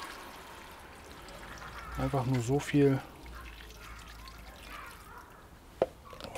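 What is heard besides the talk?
pouring water into the minced meat stew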